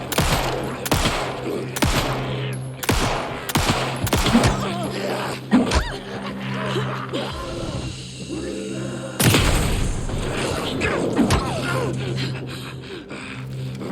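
Pistol shots ring out in Alan Wake 2, a quick series of sharp cracks in the first seconds, then scattered thuds and another loud shot later amid tense combat noise.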